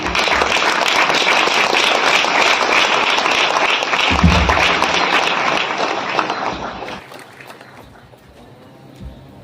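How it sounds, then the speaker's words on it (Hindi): Audience applause at a Hindi Christian sermon, a dense, loud crowd clapping that holds steady for about six seconds, then fades and thins out toward the end. "यीशु के लिए तो ताली बजे है"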